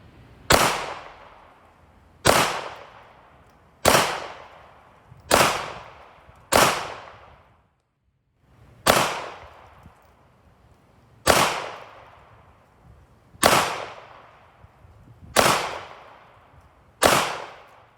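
Makarov pistol fired at a target at 10 yards outdoors: ten loud, sharp shots spaced about two seconds apart, each with a short decaying echo and a longer gap midway.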